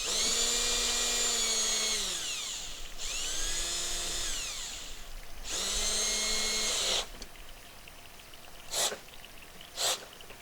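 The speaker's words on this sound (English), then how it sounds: "I'll put a shop vac on one end." A shop vacuum draws suction through buried conduit in a trench on an off-grid homestead, giving three loud whining surges that rise and fall, followed by two short sharp bursts near the end, with no talk.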